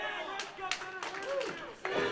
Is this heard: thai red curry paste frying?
no